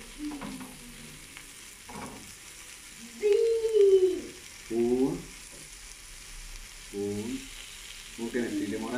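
Meat sizzles in a frying pan with intermittent bursts of stirring and scraping, fairly quiet and close, separated by brief lulls.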